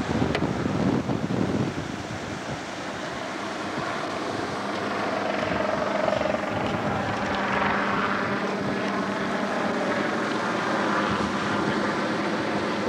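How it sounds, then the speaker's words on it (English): A helicopter drones overhead, its low rumble steady and somewhat distant, mixed with gusty wind noise, during the 1997 Manteca flood. "Got a helicopter above."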